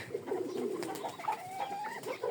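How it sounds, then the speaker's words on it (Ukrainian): Pigeons coo softly nearby, low throaty warbling calls overlapping one another in a quiet setting. "Голуби в очікуванні кормюшки."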